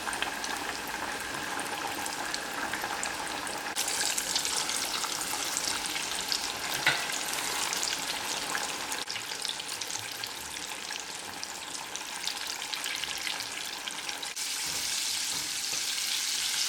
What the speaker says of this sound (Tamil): இப்போது இதே மாதிரி இன்னொரு பேட்சும் நான் ஃப்ரை பண்ணி எடுத்துக்க போகிறேன்.